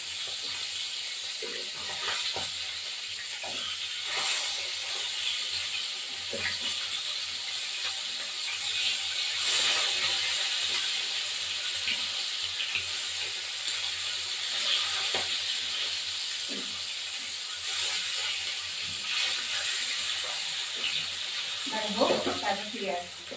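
Hot oil sizzles with a constant hissing crackle as rohu fish fries, punctuated by occasional clinks and scrapes, with some faint voices.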